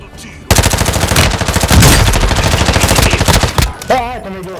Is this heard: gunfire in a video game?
yes